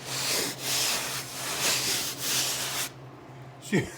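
Rhythmic rubbing across rough varnished plywood on an entertainment center, several close scratchy back-and-forth strokes, then a brief pause and a short scrape at the end.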